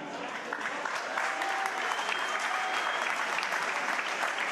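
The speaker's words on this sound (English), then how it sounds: "Another big round of applause for a great organization and led by retired Army Colonel, Mr." Audience applause for Jim Fletcher, a retired Army colonel, fills a boxing event hall as steady, dense clapping from a large crowd that holds strong throughout.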